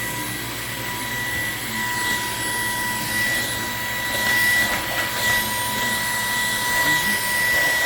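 A Bissell CleanView 3789 cordless stick vacuum runs on its highest setting, producing a steady high-pitched motor whine with tonal hum and airflow hiss, fairly constant and close throughout.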